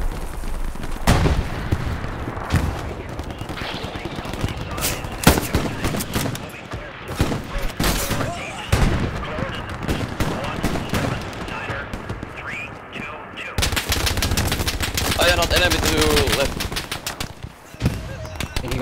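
Bolt-action rifle gunfire in the World War II shooter Hell Let Loose, loud sharp reports scattered among distant machine-gun bursts and explosions across a chaotic battlefield.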